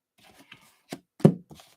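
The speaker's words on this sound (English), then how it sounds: "A couple shuffles for Taurus." A few quick riffles of tarot cards being shuffled by hand, close and sparse, with short soft snaps in an otherwise quiet room.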